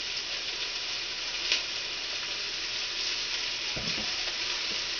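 Vegetables for cabbage soup sauteing in a pan, a steady close frying sizzle and hiss throughout with a few faint stirring clicks, no voices.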